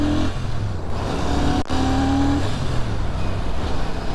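A Royal Enfield Shotgun 650 motorcycle engine accelerates up close, its steady droning note climbing in pitch for a few seconds, with no one talking.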